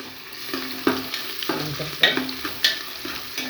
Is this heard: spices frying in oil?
yes